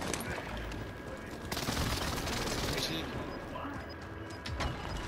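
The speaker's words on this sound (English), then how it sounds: "Enemy precision airstrike." Enemy precision airstrike explosions rip through a video game battle, dense bursts of blasts and rapid gunfire-like cracks swelling and fading over several seconds, loud and close.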